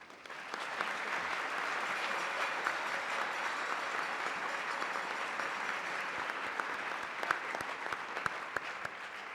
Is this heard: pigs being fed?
no